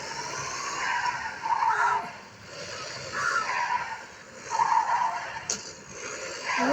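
Car skidding out of control in a mobile racing video game, with repeated swelling tire-squeal bursts in a steady rhythm over a constant engine-like drone, no talk.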